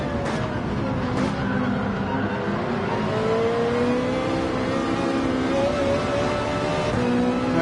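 Racing cars in Gran Turismo 7, played in VR on PS5 with PSVR2, overtaking a Lamborghini: a loud continuous engine drone with rising and falling revs throughout, no talking.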